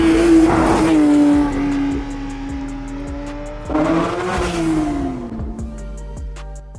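A Porsche 911 GT3 of the 992 generation revs hard and loud close by, with two rising engine bursts, a steady high drone between them and a fading tail, and no voices.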